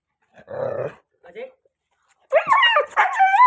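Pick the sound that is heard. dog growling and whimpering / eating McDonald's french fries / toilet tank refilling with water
dog growling and whimpering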